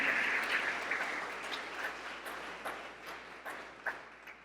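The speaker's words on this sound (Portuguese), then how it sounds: "Vamos dar uma salva de palmas a essa palavra." A church congregation applauds after a sermon passage on Hebrews, a steady wash of clapping from a roomful of people that gradually thins and fades, with a few sharper claps standing out.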